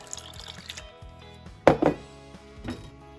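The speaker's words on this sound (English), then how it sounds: "I put back in the beet juice." Beet juice is poured back into a cooking pot in a home kitchen, a short splashing gush lasting under half a second over soft background music.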